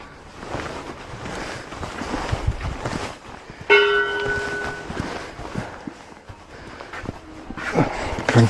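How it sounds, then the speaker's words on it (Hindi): A temple bell at Kasar Devi is struck once partway through, its bright ringing tone lingering and slowly fading over outdoor wind and ambient noise, with no talking. "घंटियाँ देखो।"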